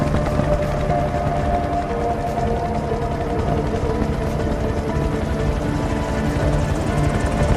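A helicopter carrying crew out to the Deepwater Horizon offshore oil rig drones loudly and steadily throughout, its rotor and engine noise forming a continuous close roar with no voices.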